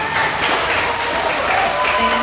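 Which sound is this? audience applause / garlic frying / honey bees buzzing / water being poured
audience applause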